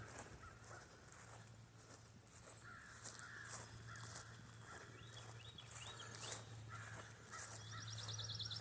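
Birds calling outdoors while chasing a squirrel up a tree, with repeated faint caw-like calls over a low steady hum.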